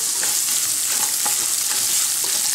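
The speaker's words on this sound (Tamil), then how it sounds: "ஸோ இப்போ இதெல்லாம் சேர்த்து இதை ஒரு 2 நிமிஷம் நல்லா ஃப்ரை பண்ணிக்கலாம்." Urad dal and onion frying in a pan for a leftover-idli recipe, a dense continuous sizzle with a few soft stirring scrapes, close and steady throughout.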